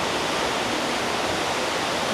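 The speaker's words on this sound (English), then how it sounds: "some water running here" Running water in a quiet old lane in Chongqing gives off a steady broadband rush, soft and continuous like a small stream or trickling fountain, with no voices over it.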